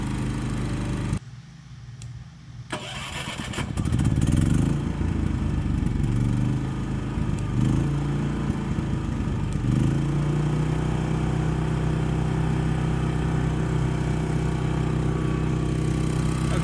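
A Champion generator's engine runs under load from a Harbor Freight welder. A click and brief lull are followed by a loud, close, steady engine drone that bogs and surges at first, then settles into a sustained labored hum.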